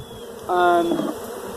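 Honey bees buzz close by during a spring hive inspection while burr comb is cleaned off the frames, one sharp, loud buzzing burst lasting about half a second before fading into quieter background hum.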